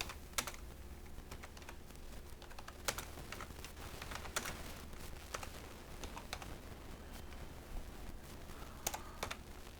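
Someone types on a computer keyboard while designing a flyer, producing soft, irregular key clicks with occasional louder taps. The sound is close but quiet, and no voice is heard.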